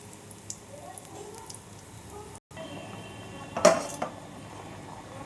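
Fried lentil dumplings (bori) go into a pot of simmering vegetarian curry: a quiet bubbling bed, then a brief cluster of clinks and a soft splash near the middle, with a faint voice in the background.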